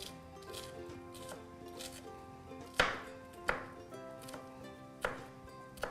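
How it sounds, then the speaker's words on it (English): A knife finely chops an onion rhythmically on a cutting board, with soft regular taps and a few louder, sharper strikes, close by. "we are chopping our onion"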